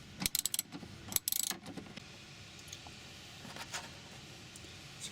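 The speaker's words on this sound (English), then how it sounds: "So we need to take that nut off before we could do anything else." A wrench ratchets and clicks loose a nut on the battery tray bracket of a Ford Freda / Mazda Bongo van, with a few sharp metallic bursts early, then quieter intermittent clicks, close up and without talk.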